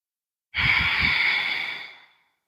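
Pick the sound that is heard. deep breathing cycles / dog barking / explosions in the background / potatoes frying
deep breathing cycles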